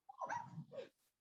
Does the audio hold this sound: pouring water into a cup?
no